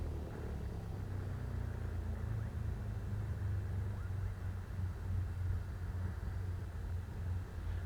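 A Cessna 172 engine idles in Microsoft Flight Simulator 2020 with the mixture rich, giving a steady low rumbling drone that holds evenly throughout at moderate volume with no talking.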